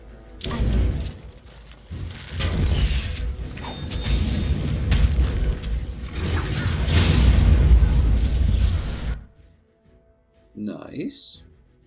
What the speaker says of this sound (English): Hopefully that'll destroy the barricade.